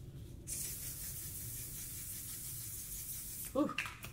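Makeup setting spray hisses out in one long, continuous mist lasting about three seconds, close and fairly soft, followed by brief rustling.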